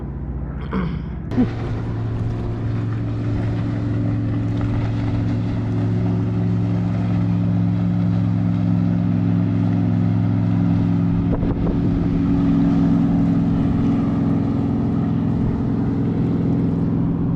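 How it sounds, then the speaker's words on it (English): Motorboats passing on a lake on a holiday weekend give a steady, fairly loud drone of engine hum that holds through the whole stretch, with a few brief knocks early on and no talk. "About 50 boats I've seen go by."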